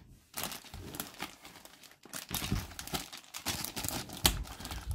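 Plastic bag holding Playmobil stickers from a police robot set being opened and handled, with continuous close crinkling and crackling that swells in bursts, rustling alone without talk.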